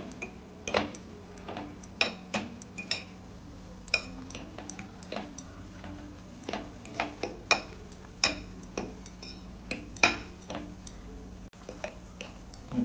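A spoon scraping and clinking in a bowl while mixing bread with black pepper for a quick snack, irregular sharp clicks and taps at a moderate distance, with no one speaking.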